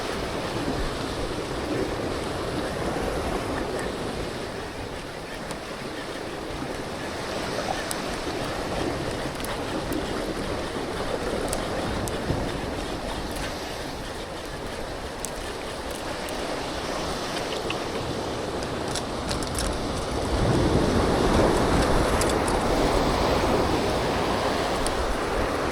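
Steady wind blowing at the shore at a coastal saltwater fishing spot, a continuous rushing roar with surf-like wash underneath, loud and unbroken throughout and swelling a little toward the end.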